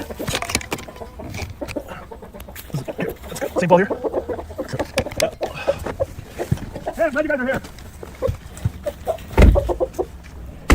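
Rooster and hen found on patrol, clucking in bursts between people talking close by, with the birds' calls mixed under and around the voices.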